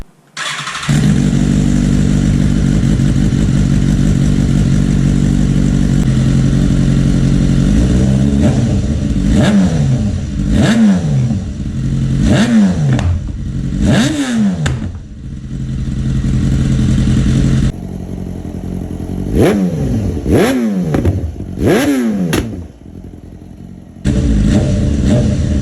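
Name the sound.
BMW S1000RR motorcycle with link pipe revving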